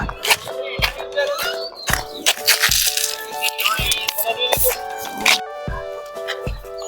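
A persistent rattling runs throughout, with rhythmic thumps and occasional dog-like yips mixed in, fairly close and busy.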